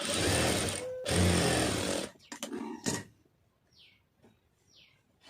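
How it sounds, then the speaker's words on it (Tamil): A sewing machine runs in two loud bursts as it stitches the lining onto a blouse, then cuts out, leaving faint clicks and a couple of quick high chirps in a quiet room. "இப்போ ஒரு காலஞ்சு தையல் ஓட்டியிருக்கோம்"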